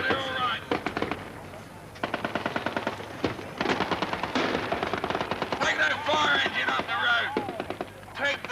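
Battle gunfire crackles in rapid bursts of machine-gun and rifle shots, loud and dense with short pauses, while shouting voices cut through the din.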